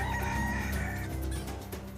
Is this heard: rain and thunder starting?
no